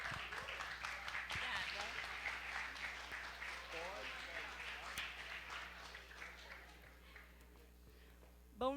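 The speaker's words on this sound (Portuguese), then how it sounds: "Receba eles estão com uma salva de palmas" Applause from a school assembly audience welcomes the speakers at a Yellow September talk, moderately loud and sustained, with voices mixed into the clapping, then fading toward the end.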